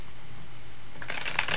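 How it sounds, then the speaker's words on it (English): Tarot cards being shuffled by hand, a soft riffling burst that starts after about a second of quiet room tone and continues close and moderately loud to the end. "One more shuffle."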